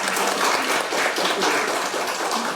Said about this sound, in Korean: 박수 한번 크게 보내주시기 바랍니다